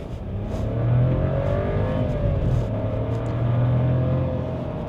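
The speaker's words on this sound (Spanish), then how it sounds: "aquí vamos a poner modo Sport, aceleramos, fondo" Volkswagen T-Cross 2026 in Sport mode pulling hard at full throttle, a steady loud engine drone with rising and falling pitch as the revs climb through the gear, continuous with no voices.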